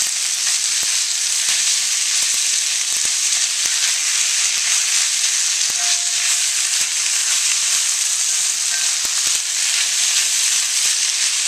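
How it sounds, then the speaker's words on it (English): Ramen stir fry sizzles loudly and steadily in a hot wok, a dense, constant frying hiss with small crackles that continues without a break and with no talking. "Just spread those out in a thin layer in the bottom of the wok, and we'll mix in our ingredients."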